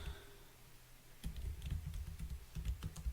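Typing on a computer keyboard, a run of quick, uneven key clicks starting after a quiet moment and continuing steadily, close and moderately loud with no talk.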